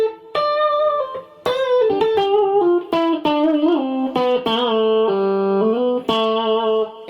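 An electric guitar played through a Dumble Overdrive Special amp with added reverb rings out in clear picked notes and chords, each tone sustaining smoothly with a warm, lightly driven sound and a soft ambient tail.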